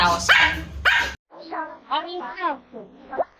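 A Pomeranian puppy at a pet market gives several short, yappy barks at close range after someone speaks briefly at the start.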